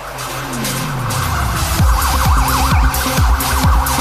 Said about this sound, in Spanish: Se escucha la alarma digo que la sirena